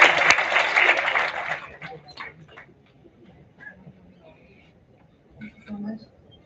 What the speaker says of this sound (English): Let's have a huge round of applause for Ms.